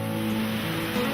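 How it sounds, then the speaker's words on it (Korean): Banias waterfall near Caesarea Philippi roars as a steady, dense wash of rushing water, loud and unbroken throughout, with no voices over it. "가이사랴 빌립보 근처에 있는 바니아스 폭포입니다"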